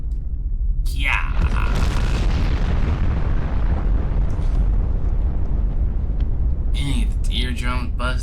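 A nuclear explosion blast in a human-body survival simulation game, a loud sustained roaring rumble that fills the whole clip, with excited voices shouting over it near the start and end.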